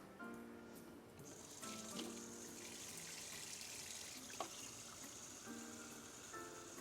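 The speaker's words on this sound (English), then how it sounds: "Gotta get some boiling water in there." Boiling water pours from a kettle into a baking pan set up as a water bath, a soft steady gush and trickle at close range with a few light clinks of metal and glass, quiet and without talk.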